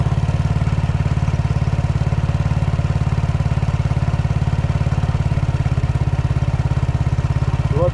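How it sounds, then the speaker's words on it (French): A Yamaha Xmax 125 scooter engine (2006–2020), freshly refilled after an oil and filter change, idles steadily with a low, even putter close by, keeping the same rhythm throughout with no change in speed. "le moteur fait moins de bruit dû au changement d'huile"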